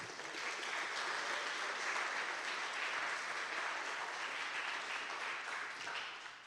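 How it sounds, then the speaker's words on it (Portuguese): A congregation in a church service applauds together, a soft but dense, continuous spatter of many hands clapping from some distance, holding steady for several seconds before trailing off at the end. "Vamos aplaudir ao Senhor Jesus?"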